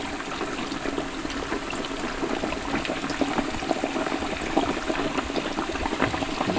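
Breaded pork tenderloin sizzling in hot frying oil, a steady dense crackle and hiss with scattered pops, close and continuous.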